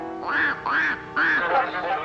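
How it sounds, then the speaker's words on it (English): A duck quacks loudly and close by in a pond setting, with three or four drawn-out quacks in quick succession. "their leader, guessing what my intentions were, began a loud quacking"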